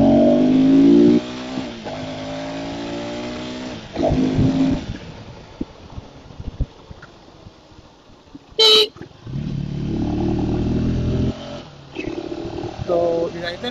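A 2025 KTM Adventure 390X motorcycle pulls away from first gear, its engine rising in a few short revving bursts with quieter idling gaps between and a brief sharp horn-like blip near the end.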